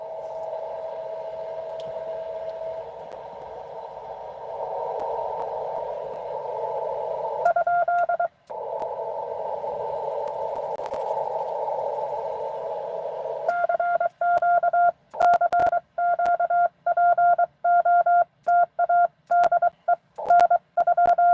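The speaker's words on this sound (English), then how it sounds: "I hear somebody tuning up." An amateur radio station on SSB at an outdoor park activation carries steady tuning-up tones, held carriers that shift in pitch, then a run of short repeated beeps, loud with no talk.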